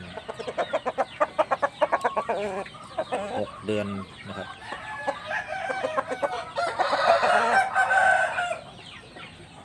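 A six-month-old rooster clucks in a quick, rhythmic series, then crows loudly nearby, while someone speaks briefly over the birds.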